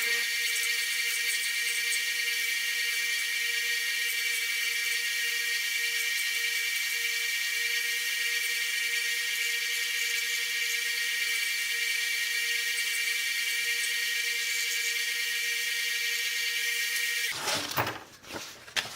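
A small bench sander runs steadily and loudly with a constant motor whine, used while shaping a moose antler spoon, then winds down abruptly near the end.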